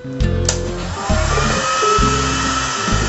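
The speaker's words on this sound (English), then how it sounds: "you pump the air in with a hair dryer" A hair dryer pumping air into a homemade tornado machine's hollow box, a loud, steady close-up whine and rush of air with slight shifts in pitch.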